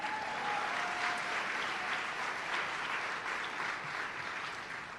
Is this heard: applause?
yes